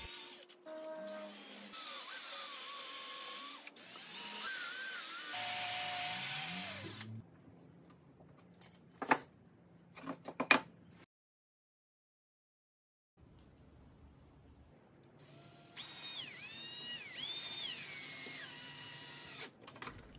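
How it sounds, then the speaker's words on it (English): A standard drill on low speed drives screws into a pocket-hole base frame for a bench cart, whirring in several long, varying bursts with clicks and short pauses, then a stretch of silence before another run. "I use a standard drill and I have it set up on a low speed"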